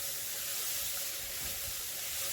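Chopped onion with turmeric and salt frying in hot oil in a wok, a steady soft sizzle and hiss that holds evenly throughout, close and moderately quiet, with no voices.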